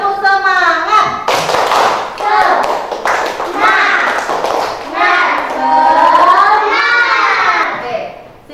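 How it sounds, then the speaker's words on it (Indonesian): A primary school class performs a rhythmic 'tepuk semangat' clapping routine, with sharp patterned claps and thumps mixed with loud children's chanting voices. "kita tepuk semangat dulu agar semuanya semangat"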